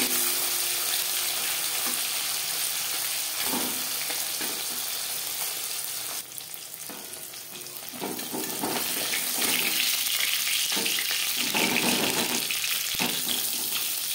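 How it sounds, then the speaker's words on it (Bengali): Bata fish fries in oil in a pan with a steady, hissing sizzle up close. The sizzle dips briefly in the middle, then comes back with a few louder spits and crackles. No voices. "মাছ একটা সাইড ভাজা হয়ে গেলে অপর সাইডটা উল্টে দেবো"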